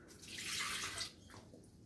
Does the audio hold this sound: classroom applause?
no